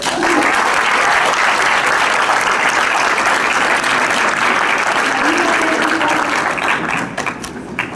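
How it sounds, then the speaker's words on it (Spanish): A crowd at an AFS exchange-program day in Soyapango, El Salvador, applauds loudly and steadily for several seconds, a dense wash of clapping that thins slightly at the very end. "Así que un aplauso para todos."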